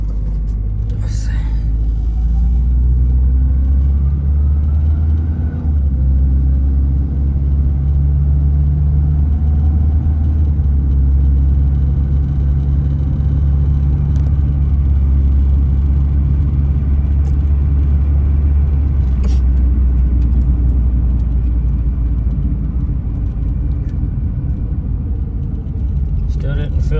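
Steady low engine drone and road rumble from a Chevrolet Cavalier driving and working up through its gears, near and continuous throughout, with faint voices murmuring underneath.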